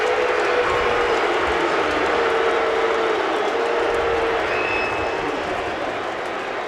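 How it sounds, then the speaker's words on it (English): Stadium crowd at a 2008 NFL game booing a referee's call against the hometown defense: a loud, sustained, steady roar of disapproval filling the whole clip, fading slightly toward the end, with no talk. "Fans booing because they didn't like the call against the hometown defense"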